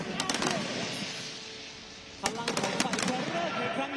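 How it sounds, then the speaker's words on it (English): Fireworks crackling and popping at an opening ceremony for the ASEAN Para Games in Nakhon Ratchasima, Thailand. Rapid bursts come in two clusters against a distant crowd roar, with a voice speaking over them. "Sky illuminated by these fireworks."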